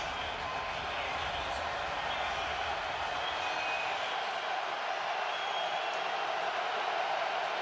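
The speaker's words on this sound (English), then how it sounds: "Crowd in full throat." A stadium crowd roars through a Bears home playoff football game, a steady, distant wash of noise that holds without break across the whole stretch.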